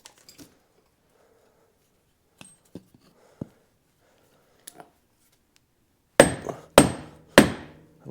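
Hammer blows ring out while a Polaris Ranger 800 axle is replaced: a few light scattered taps at first, then three loud, sharp metallic strikes close by near the end.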